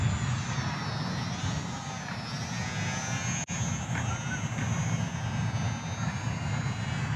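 An FMS PA-18 Super Cub micro RC plane flies with a steady, thin electric motor whine and airy rush, holding fairly even in level, moderately loud throughout with one brief dropout midway.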